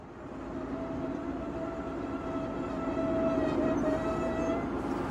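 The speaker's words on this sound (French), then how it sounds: "Et nous entrerons en gare de Tabédit, construite en 1909 au début du transport du phosphate par le train." A train rolls into Tabédit station in Metlaoui, Tunisia, on a phosphate railway line, with a steady, fairly loud rumble and faint squealing tones that build slightly as it nears, with no voices.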